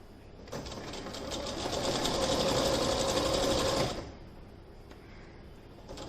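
A sewing machine runs a single steady seam across an apron from one armhole to the other, a close, even whir lasting about three seconds before stopping.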